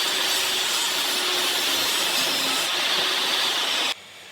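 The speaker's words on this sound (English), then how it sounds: "I wanted a chamfered look on the top hanger, so I went ahead and adjusted my table saw to 45 degrees" A table saw tilted to 45 degrees rips a chamfer along a wooden cornhole board hanger, a steady loud whine of blade through wood that holds for about four seconds and then drops sharply as the cut finishes.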